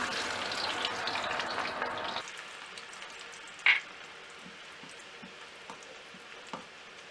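Garlic sizzles in vegetable oil over medium-low heat with a loud hiss for a couple of seconds, then the frying quietens to a soft crackle, with a brief clink.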